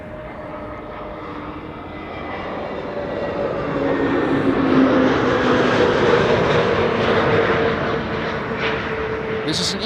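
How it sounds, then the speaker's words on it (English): An EasyJet Airbus A320neo arriving at Amsterdam Schiphol from London Stansted: a jet engine roar with a droning whine swells to a peak midway and then eases slightly, with faint speech in the background. "This is an EasyJet A320 Neo arriving from London Stansted."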